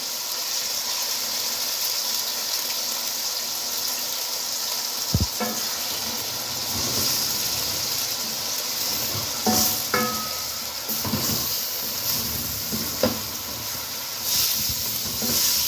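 Minced mutton frying with garlic in a pan over low heat gives a steady close sizzle and hiss, broken by a few sharp clinks and scrapes of a stirring spoon against the pan.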